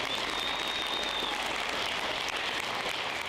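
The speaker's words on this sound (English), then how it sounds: "So, again, round of applause." Audience applauding at a high school graduation ceremony, a broad, even patter of many hands clapping at once that carries steadily at a fair distance with no speech over it.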